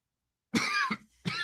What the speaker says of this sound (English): cough's killing me.